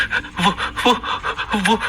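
A police constable panting hard and out of breath after running into a room, rapid ragged breaths close up, with a voice-like quality to the gasps.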